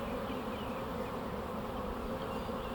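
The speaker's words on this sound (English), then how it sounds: "Looks to be a good sized swarm." A swarm of honey bees moving into a box makes a dense, steady buzzing drone, close and unbroken, with no voices over it.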